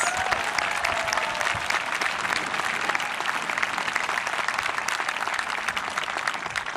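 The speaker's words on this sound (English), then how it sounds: "Please give a round of applause for all of our retiring graduates." Graduation ceremony audience applauding retiring graduates, a dense, loud wash of clapping from a large crowd sustained evenly throughout.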